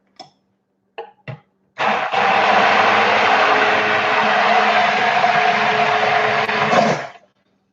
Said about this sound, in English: To clean the blender, the immersion blender, you know, we just stick it in some water.